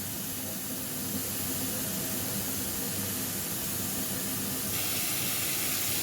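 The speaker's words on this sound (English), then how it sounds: "So I'm going to put it back on the fire and allow it to boil." A pot of brown beans boiling over a fire gives a steady, even hiss with bubbling, close and constant, with no talking.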